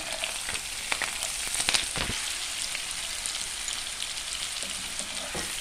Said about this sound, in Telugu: ఇప్పుడు దీంట్లో పచ్చిమిరపకాయలు వేసుకుందాం అలాగే ఈ ఉల్లిపాయలు కూడా వేసేసుకుందాం